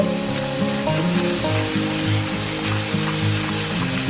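Turmeric and spices fry with a steady sizzle as they're stirred in a pan for a village-style Bengali bata fish dish, the frying hiss partly masked by loud background music throughout.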